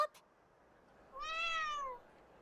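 A cat meows once in the video game Trails into Reverie, a single clear, drawn-out mew rising and falling at close range against a quiet background, preceded by a brief click.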